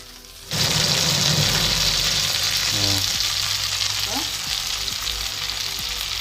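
Crab pieces going into hot oil, the quiet hum jumping to a loud, sustained, crackling sizzle that carries on steadily near the pan, with faint clinks and a low background drone.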